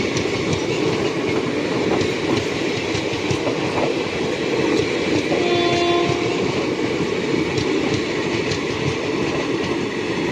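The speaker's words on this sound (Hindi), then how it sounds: "ट्रेन आई गई है।" A train pulls into a station platform on the Rajkot–Veraval line at night, a continuous loud rumble of wheels and carriages rolling steadily past, with a brief horn-like tone midway.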